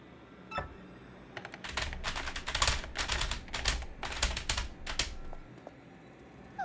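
Peach types on a keyboard in the Paper Mario: The Thousand-Year Door video game on Switch, a rapid clacking series of loud keystrokes in irregular bursts over several seconds, sounding much like a typewriter.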